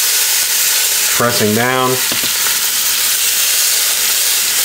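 Bacon and meat searing in a very hot Instant Pot, a loud steady broadband sizzle running throughout, with a brief stretch of speech near the middle.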